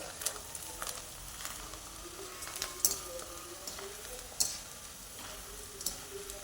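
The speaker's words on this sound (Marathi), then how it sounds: "हे असे हलवले की छान तळल्या जातात" Soaked sago pearls fry in oil while being stirred, a soft, faint sizzle broken by scattered light clicks and scrapes of the spoon against the pan.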